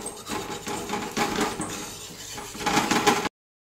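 A bottle gourd thalipeeth is flipped in a pan on the stove, giving a few light clinks and scrapes of a spatula against metal over a steady sizzle, with a slightly louder clatter near the end.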